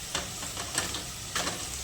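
A vegetable curry sizzles in a pan during tempering, a soft frying hiss broken by a few brief stirring scrapes, fairly quiet and without speech.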